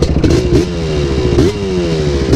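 A Honda TRX250R and a Polaris Predator 500 quad race side by side, engines loud and close with rising, falling revs and gear-shift dips across a dense roar.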